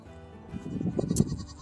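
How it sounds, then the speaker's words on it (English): A goat on a small farm with an orchard and spring garden lets out a short, wavering bleat, close and moderately loud, with a brief higher cry near the end; no talking. "And there's the goats."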